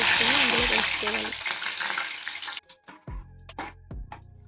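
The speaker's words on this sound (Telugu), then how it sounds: "అదే ఆయిల్లో కొంచెం కరివేపాకు తీసుకొని ఫ్రై చేసుకొని అందులో వేసుకోవాలి." Curry leaves frying in hot oil, a loud crackling sizzle that cuts off abruptly partway through, leaving quieter clinks and short bursts of noise with a brief faint tonal sound early on.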